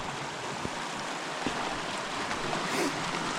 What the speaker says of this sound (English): We are crossing the Opalescent River.